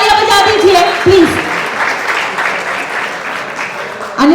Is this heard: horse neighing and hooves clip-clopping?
no